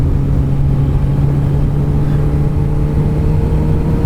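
A Kawasaki ZX-14R motorcycle accelerating hard on a 0-60 mph run, a loud steady engine drone with a strong low hum and wind roar, held continuously at high throttle.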